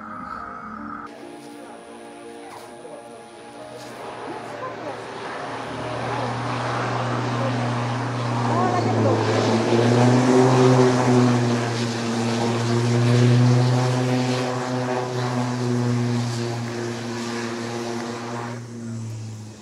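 A propeller airplane in the Krayan border region runs its engine, the steady drone starting abruptly, then building to a loud, sustained roar with harmonic whine as it powers up, with no talking.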